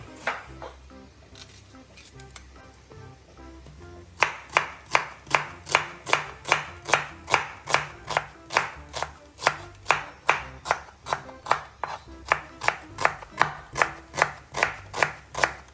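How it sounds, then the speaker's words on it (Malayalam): Onions being cut with a knife on a board for a homemade chicken curry: after a few seconds of quieter handling, a long run of steady, evenly spaced close chops continues alone with no talk. "മീൻ ടൈം നമുക്ക് അതിന് ആവശ്യമുള്ള ഉള്ളി കട്ട് ചെയ്തെടുക്കാം."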